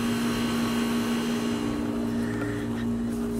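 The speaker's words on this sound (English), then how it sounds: "So what you hear there is my neighbor's old air conditioning unit" An old outdoor air conditioning unit belonging to a neighbor runs with a loud, steady mechanical hum and drone, constant throughout.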